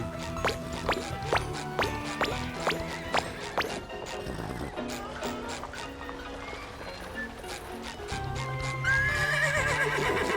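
A cartoon seahorse in SpongeBob SquarePants: The Cosmic Shake clip-clops with rhythmic hoofbeats and lets out whinnies, with game music and effects layered on top.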